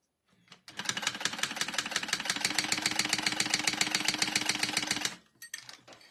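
Sewing machine stitching down the sides of a cork strap tab, a steady rapid mechanical clatter running about four seconds at close range, starting and stopping abruptly, with no one speaking.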